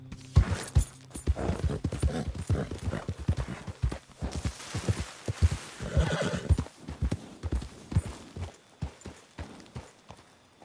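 A horse in Red Dead Redemption 2 neighs loudly while its hooves pound in a fast, steady galloping clip-clop, close and continuous throughout.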